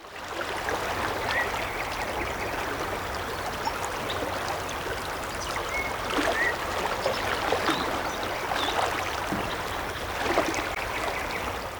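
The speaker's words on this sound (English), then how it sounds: "And here, the soundscape of the San Juan River." Flowing water of the San Juan River in Canyonlands, a steady broadband rush with faint gurgles and trickles, constant and fairly close, with no voices present.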